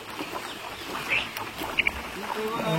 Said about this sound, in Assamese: ৰাস্তাত এতিয়া নাও চলি আছে।